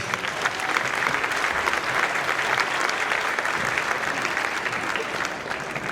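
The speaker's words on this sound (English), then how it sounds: "So how about a round of applause for Eleanor Guz?" Sustained applause from a crowd at a school district concert, steady clapping filling the room for several seconds at a strong, even level.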